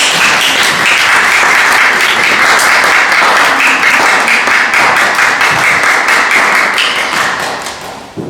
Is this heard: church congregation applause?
yes